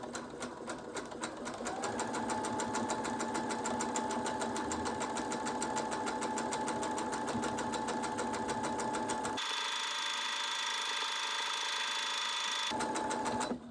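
A sewing machine stitches a fabric makeup bag, running steadily with a fast, even mechanical whir and rhythmic needle clatter at close range, briefly changing pitch before resuming, with no talking.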